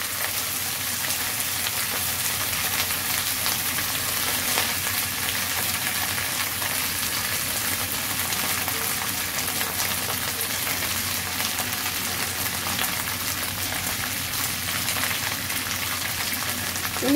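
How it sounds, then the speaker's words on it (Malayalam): Fish, a pepper fry, sizzling in a hot pan, a dense, even crackle and hiss that runs close and steady throughout with no talking. "അതിനുശേഷം ഇതിലേക്ക് ഫ്രൈ ചെയ്യാനുള്ള മീൻ എടുത്തു വയ്ക്കാം"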